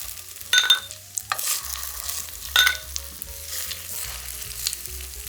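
Oil sizzling steadily in a pan as meatless vegetable patties fry, with a few brief utensil clinks and scrapes standing out over the constant crackle.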